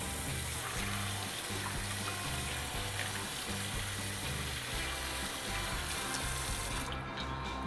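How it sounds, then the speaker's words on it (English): Kitchen sink tap water runs continuously over a cleaned blue crab, giving a steady splashing gush. "So I'm going to give that a very quick rinse under the sink."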